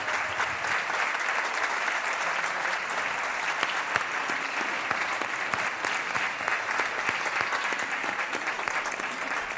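A large crowd at a Spanish singing celebration applauds loudly and steadily, dense continuous clapping filling the whole stretch without a break.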